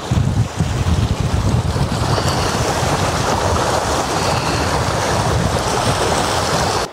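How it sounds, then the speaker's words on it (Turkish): Strong wind roars across the microphone beside the water at Peçenek Dam during carp fishing, with waves churning underneath, a loud, constant, buffeting rush that never lets up. "Felaket bir rüzgar ve dalga var."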